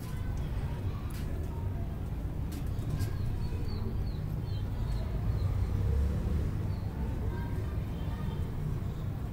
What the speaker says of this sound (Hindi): ये सखी साहब वाले, चौधरी सखी साहब वाले जो कबूतर हैं